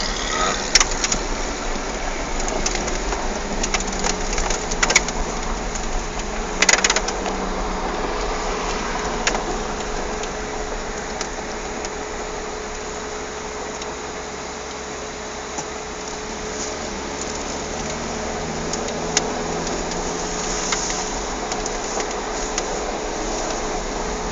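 Ferrari 458 Italia V8 engine driving on the road, a steady, continuous engine drone with wind and road noise at a constant cruising pace.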